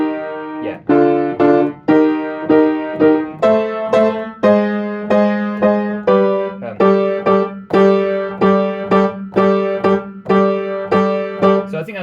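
Piano chords from a pop song are played alone in a steady rhythmic pattern, with repeated sustained strikes falling at regular intervals and a close, clear tone.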